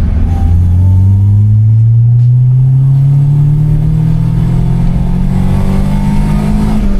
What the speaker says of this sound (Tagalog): bibigyan ko kayo ng isang VTEC dito para marinig nyo kung gaano kawalang tunog siya